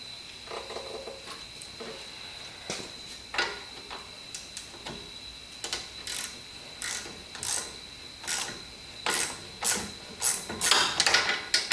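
Ratchet clicks in irregular bursts while a CVT cooler is bolted in place on a Nissan Juke, with sharp mechanical ticks growing louder and quicker toward the end against a faint steady whine.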